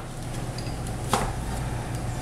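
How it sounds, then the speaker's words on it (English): Tomatoes being roughly chopped with a knife on a board, a single distinct chop standing out near the middle over a steady low background hum, close and fairly quiet. "Chopping my tomatoes, rough chops."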